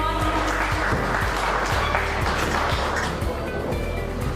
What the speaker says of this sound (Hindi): पर जोरदार तालियां हो जाएगी